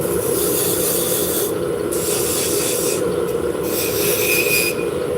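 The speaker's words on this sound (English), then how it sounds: "I'm going to use a beading tool, which basically is just a V-shaped scraper." A V-shaped beading tool scraping a spinning wooden drop spindle on a lathe, producing a loud continuous rasping hiss with a squealing edge that pulses as the tool is moved back and forth, with no voices.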